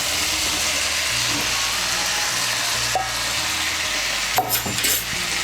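Fried potatoes and jackfruit go into a yogurt masala in a pan for a vegetarian Bengali jackfruit dish. A loud, continuous sizzle runs throughout, with utensil scrapes and a few sharper knocks near the end.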